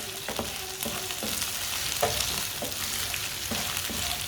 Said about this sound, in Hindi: कटी हुई सब्ज़ मिर्चें डालेंगे। सब्ज़ मिर्चों को 3-4 मिनट के लिए पका लेंगे।